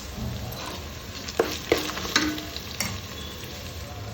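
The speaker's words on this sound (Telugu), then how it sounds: "చిన్నవి రెండు టమాటాలు వేసి మంచి మగ్గింత వరకు ఫ్రై చేసుకోవాలి" Two small tomatoes sizzling in a pan of cooking spices and being stirred, a soft steady fry with a few scraping spoon strokes, close and moderately loud, no talk.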